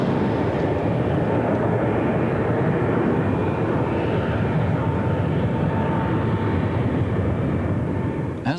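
BAC One-Eleven jet airliner in a maximum-rate dive, heard as a steady loud broadband roar of engine and rushing air in the cabin, constant for the whole stretch with no talk.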